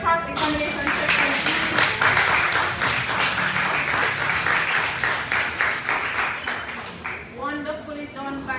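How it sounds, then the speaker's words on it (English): Applause from an audience at a high school debate competition final, dense clapping rising quickly and thinning toward the end, with a few voices underneath. "A round of applause for the cross-examination section."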